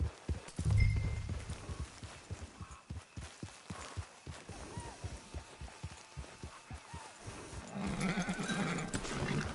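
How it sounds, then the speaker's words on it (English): Horse hooves clip-clopping at a steady walking rhythm in Red Dead Redemption 2, distinct and fairly close, with a short burst of noise at the start and a swell of ambient sound near the end. "Get your horse."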